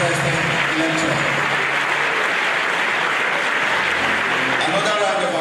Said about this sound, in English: But I request a round of applause for this very interesting lecture.